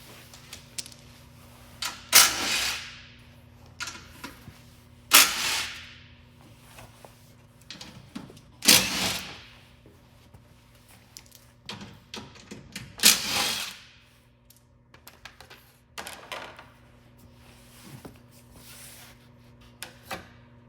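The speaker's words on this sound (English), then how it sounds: "Those require a 12mm socket. There's just 4 bolts to remove that skid plate." Ratcheting and clicking from a 12mm socket removing the four bolts of the factory skid plate on a 2022 Toyota Tundra, heard as intermittent bursts of metallic clatter separated by quieter pauses.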